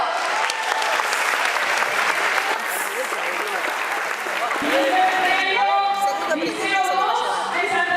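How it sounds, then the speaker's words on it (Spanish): Students at a Montevideo secondary school applaud, dense clapping with shouts and cheering mixed in; partway through, voices and laughter grow louder over the continuing claps, the whole scene close and lively. "Un aplauso"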